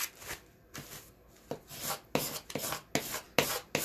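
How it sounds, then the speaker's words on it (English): A small brayer scraper tool rubs transfer tape down onto a stencil design, a series of short, close scraping strokes in an uneven rhythm, fairly quiet and heard on its own. "I'm just applying some transfer tape to my design, and I have a little brayer here, a scraper tool that I got with my Cricut"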